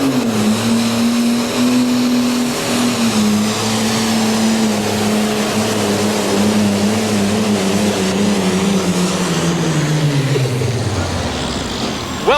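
International 1466 pro stock pulling tractor bogging down during a pull, a loud steady engine roar that gradually sags and drops in pitch as it loses boost near the end.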